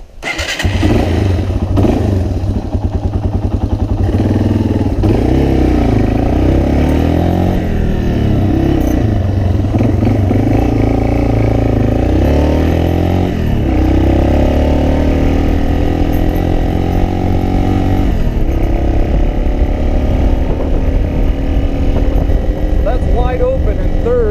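An old motorcycle, a long-parked bike with stale fuel, revs and rides with a steady loud engine drone throughout, its pitch rising and falling through the gears, with occasional talk over it.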